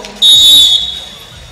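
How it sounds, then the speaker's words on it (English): At a 2016 BILAAG basketball game, a referee's whistle gives one sharp, loud, shrill blast of about half a second, then the sound drops back to gym crowd murmur. "And a whistle."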